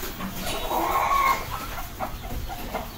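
Yona hens cluck close by in a backyard flock, a short run of loud, throaty clucks followed by a few softer scattered calls.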